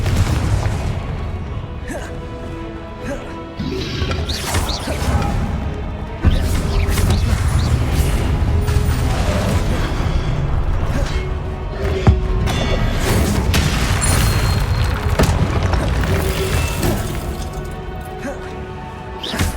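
Confringo fire spells exploding in Hogwarts Legacy on PS5 Pro: loud, repeated booms and crashing blasts over continuous game music, with shouted spell voices in between.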